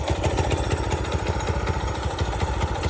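A small-displacement mini bike engine runs steadily close by, a continuous buzzing, rattling drone with rapid firing pulses and no pauses.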